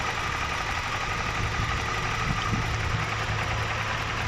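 A BMW engine idles steadily during an ignition coil check, a continuous mid-pitched rumble with a faint rhythmic knock, heard close and alone with no talking.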